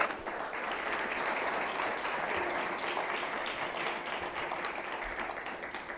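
A church congregation claps and applauds for the Lord during a Spanish-language sermon, a dense, steady wash of many hands lasting the whole stretch, fairly loud with no talk over it.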